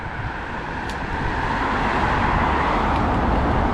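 Cars overtaking a cyclist on a UK road, heard as a steady, swelling roar of passing traffic with wind rush close by and no talking.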